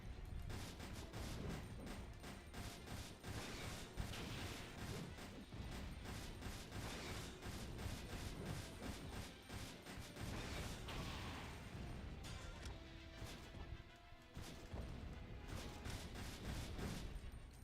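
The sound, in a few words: machine gun firing in a video game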